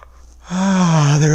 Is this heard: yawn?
yes